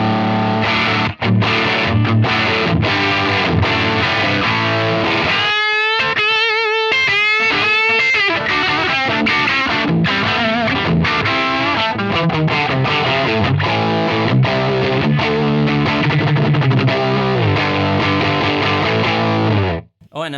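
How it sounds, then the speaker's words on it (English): Electric guitar played through a Mojo distortion pedal into a 1978 Marshall JMP amp, loud and sustained with crunchy chords and a brief run of picked single notes midway, alone without talk, ending abruptly. "if you want more distortion, no problem. You can put on any kind of pedal"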